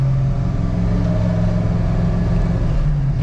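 Classic Ford Mustang with an aftermarket exhaust system rumbles and revs steadily while driving down a city street in Los Angeles, a loud, continuous low engine drone with no talk.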